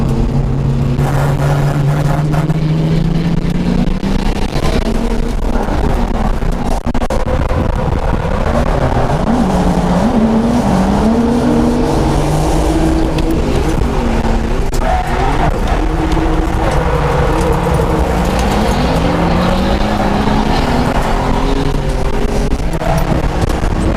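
BMW E46 drift car at a drift event on track, engine roaring continuously at high revs with rising and falling pitch and tire squeal throughout, loud and close, no talking.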